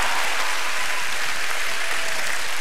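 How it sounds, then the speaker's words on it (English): Large crowd at an evangelistic gathering in Fort Smith, Arkansas, breaking into dense, loud, continuous applause that fills the whole clip. "Give him a huge clap."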